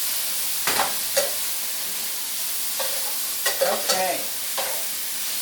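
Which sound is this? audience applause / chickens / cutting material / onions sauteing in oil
onions sauteing in oil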